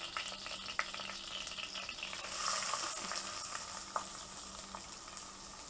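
Chopped medium onions sizzle and fry steadily in a hot clay pot with curry leaves, a soft continuous crackle close by with occasional stirring clicks and scrapes, no talking.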